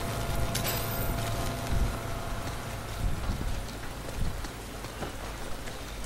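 Steady rain pours in the video game The Last of Us Part II, a dense hiss of drops hitting surfaces with occasional louder spatters, continuous and unbroken.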